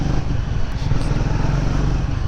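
A Triumph Speed 400 motorcycle cruises in 4th gear, with a steady, close engine drone and wind rush running without a break.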